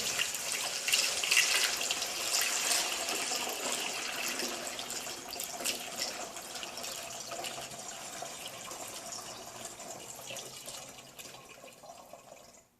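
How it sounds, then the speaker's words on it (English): Borax solution poured into a container while cleaning an old wooden deck, a steady close liquid pour with splashing and trickling that runs for several seconds and tapers off near the end. "So now we're pouring the borax substance into the container."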